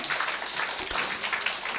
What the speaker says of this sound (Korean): 서로를 위해서 다시 한번 박수를 쳐주시면 좋겠습니다.